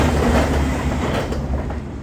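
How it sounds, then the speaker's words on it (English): A train rumbles past close by, loud and continuous with clattering wheels on rails, gradually easing as it moves on. "Another train."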